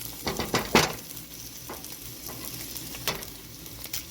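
Meat, onions and garlic for chicken fried rice sizzle in a hot pan, a steady frying hiss broken by a few sharp scraping stirs of a utensil, close and alone.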